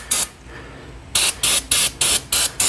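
Aerosol cleaner sprayed onto the rear brake rotor and pad area of a C7 Audi 3.0T, one short blast, a pause, then five quick rhythmic bursts of close, loud hissing spray.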